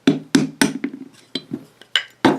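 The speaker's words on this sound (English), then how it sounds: "I'll take just maybe a light hammer and just kind of tap." A light hammer taps a screwdriver to drift the sight off a Glock 19 pistol slide, giving about nine sharp metallic strikes at uneven intervals, close and fairly loud with no talk.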